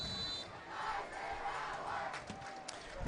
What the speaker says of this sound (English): There's a little fan base Eisenhower hand clap, try to get their defense back into it.